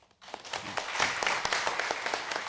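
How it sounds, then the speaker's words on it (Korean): Applause follows a presenter at a parliamentary health policy forum. After a brief silence, dense, close clapping starts and holds steady with sharp individual claps throughout. "다시 한번 박수 부탁드립니다."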